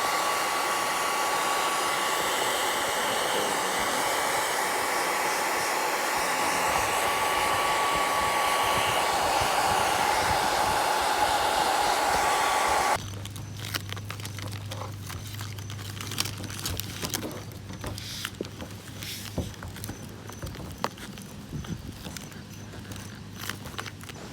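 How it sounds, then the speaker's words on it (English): A hair dryer blows with a loud, steady roar for about half the span while heating fittings on a truck camper roof, then cuts off, leaving scattered crinkling, tapping and handling noises outdoors. "just heat it up with the hair dryer for a couple seconds and it comes off really easily"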